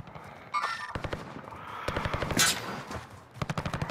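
Gunfire in Call of Duty: Modern Warfare during online play, with a sniper shot among it: a busy, mid-level stretch of rapid shots and impacts with a sharper crack partway through, dense clicking bursts, and no clear voices.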